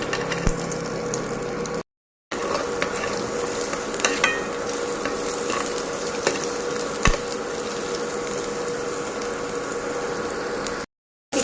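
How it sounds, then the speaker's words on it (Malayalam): Ginger and garlic sautéing in hot oil for restaurant-style Gobi Manchurian: a steady low sizzle with scattered scraping and stirring clicks against the pan, continuous apart from two brief silent gaps, with no one talking. "ഇനി ഇതിലോട്ട് ഇഞ്ചി വെളുത്തുള്ളി ആദ്യം ഒന്ന് ഇട്ട് വഴറ്റിയെടുക്കാം"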